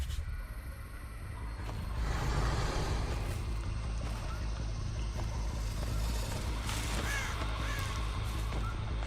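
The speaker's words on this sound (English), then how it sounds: "those are the crows the quest was talking about" Crows caw in a video game, a few short calls rising out of a dense, constant wash of game ambience and low rumble, fairly distinct but not loud.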